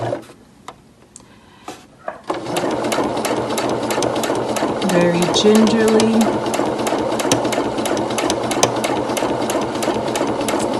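After a few soft clicks and a brief spoken phrase, a sewing machine starts up and stitches steadily at medium speed with a rapid mechanical whir.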